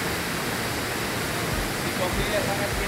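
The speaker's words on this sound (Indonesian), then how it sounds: "Lokasi air terjun Liupangie." Steady broadband rush of the Liupangie waterfall at Mattabulu in South Sulawesi, a constant roar of falling water with no breaks, loud and close throughout.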